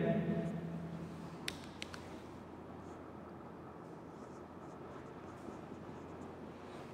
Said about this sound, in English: So I am writing directly.